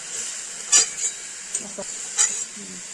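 Punka greens cook in a pan on low heat while a spatula stirs them, a soft continuous sizzle broken by several light scraping strokes, close and unhurried, with no voices.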